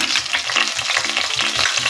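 Mustard seeds splutter in hot coconut oil in a pan while broken wheat upma is prepared: a close, steady sizzle with rhythmic scraping strokes throughout.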